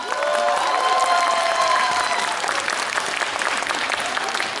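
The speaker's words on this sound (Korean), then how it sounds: "박수 한번 주시고요" Audience applause at a 2017 kindergarten talent show, as children get ready to perform: steady, dense clapping from a crowd, with a few voices murmuring at the start.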